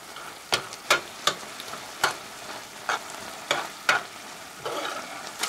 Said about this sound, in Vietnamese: Sau đó thì mình xào cho đến khi thịt cạn hết nước và săn lại như thế này là được.